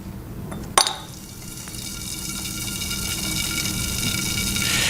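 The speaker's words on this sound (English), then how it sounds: "if I put that piece into the jar, a great boiling apparently goes on" A piece of fine marble drops into a jar with a sharp clink, followed by a steady fizzing, bubbling hiss as gas rises from it like boiling.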